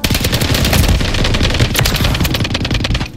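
Rapid automatic gunfire from the video game Modern Warfare 3 (MW3) in online multiplayer, a dense, loud, continuous burst of shots lasting about three seconds with no talk over it.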